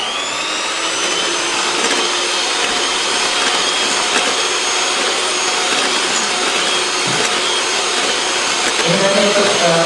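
An electric mixer whirs continuously as whipped cream is blended with water for a mille crepe topping, a steady, fairly loud drone running throughout.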